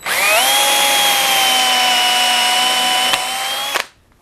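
A power drill boring holes in wood for a cutlery tray insert, one loud close continuous whine of nearly four seconds that holds steady pitch and then cuts off, with no talking.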